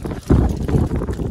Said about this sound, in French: désolé pour le vent les gars